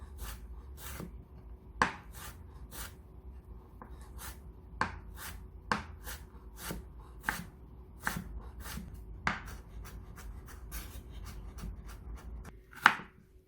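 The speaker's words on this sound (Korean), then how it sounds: "당근은 채 썰어서 쫑쫑 썰어줍니다." A kitchen knife julienning a carrot and then chopping the strips on a cutting board for tofu fried rice, giving a steady run of crisp, close taps with short pauses between strokes.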